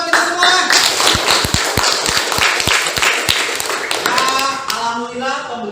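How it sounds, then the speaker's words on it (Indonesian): A class of students claps hands together at the end of a lesson. The clapping is loud and close, with brisk, sharp claps mixed with voices that carry on throughout before fading, and a teacher speaks near the end. "Baik, tepuk tangan buat kita semua."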